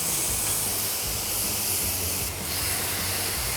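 Gochujang-marinated skirt steak sizzling loudly on a ripping-hot grill pan, a dense continuous hiss and crackle filling the whole moment with no voices.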